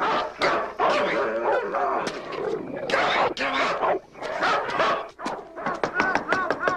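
A dog barks and growls outside in rapid, overlapping bursts, fairly close and loud, mixed with frantic human voices.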